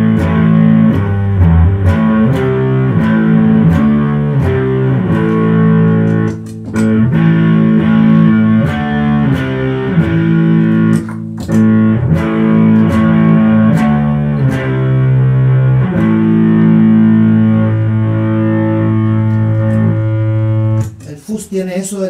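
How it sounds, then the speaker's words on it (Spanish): Guitar played through the fuzz channel of a two-channel distortion and fuzz pedal, a thick, saturated, clipped tone sustaining loudly throughout with repeated chord changes and brief gaps, ending with a short pause and a final strum. "Un canal es la distorsión y este es el canal del fuzz."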